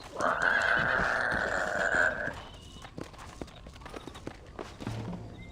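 Horses in a Red Dead Redemption game: one loud, close neigh lasting about two seconds, then scattered hoof clops and footsteps with a brief low snort near the end.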